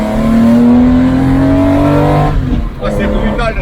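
A 1973 Porsche 911 RSR race car engine revs hard up close, a loud, raw, steadily climbing drone that then breaks into rougher throttle blips, with a voice talking over it.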